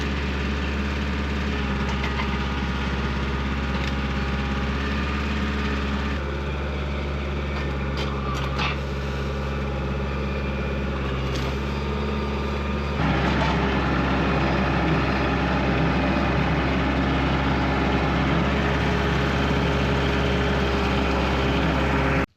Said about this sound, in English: This 40 horsepower tractor, it's got some power